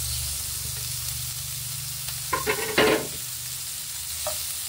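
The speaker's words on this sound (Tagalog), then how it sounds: "Papakulahin lang natin kaunti yung sibuyas at bawang." Onion and garlic sautéing in a pan for garlic shrimp: a steady, even sizzle throughout, broken midway by a short burst of louder stirring scrapes.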